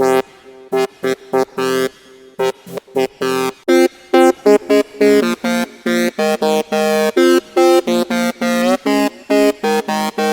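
A bright synth brass preset plays a fast run of short, pulsing notes, its filter cutoff pumping open and closed on each hit, with no voices.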